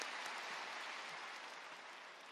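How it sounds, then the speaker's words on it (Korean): A church congregation claps to welcome the pastor at a special early-morning prayer service, a dense, even wash of applause that slowly fades. "큰 박수로 맞이하시겠습니다"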